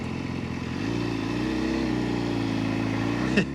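A 2014 BMW HP4 motorcycle engine running close by, with a steady droning idle whose pitch steps up during a gear change and a brief mechanical clunk near the end.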